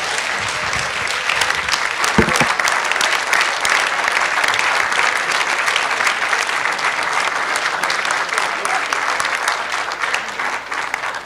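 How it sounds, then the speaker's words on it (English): A large audience applauds at a formal address in Myanmar, a dense, steady wash of clapping that holds evenly at full strength for the whole stretch. "You decide whether you want to applaud or not."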